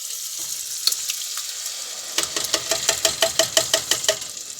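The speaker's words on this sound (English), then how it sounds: "I'm putting it in now because I'm putting the tomatoes in and the tin of chopped tomatoes." Fresh tomatoes and tinned chopped tomatoes hit hot oil, a steady sizzle building, then a rhythmic series of close stirring scrapes and sputters in the pan.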